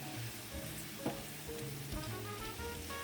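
Spinach cooking down in a pan for a shrimp spinach dip, a low steady sizzle with scattered soft clinks and shifts, nearby and moderately quiet throughout.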